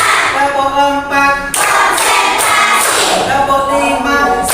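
A class of children claps together in a school lesson, with several sharp bursts of group clapping in a rhythmic pattern, loud and close, and voices in between.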